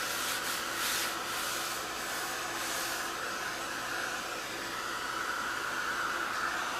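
A heat tool blows hot air steadily onto the back of a muslin art journal page, a faint, even whooshing hiss that runs without a break and with no voices.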